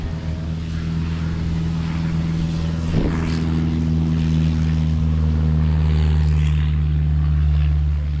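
A small propeller airplane engine drones close and loud with a steady harmonic hum, swelling slightly as power increases, with a brief knock partway through and no clear talk.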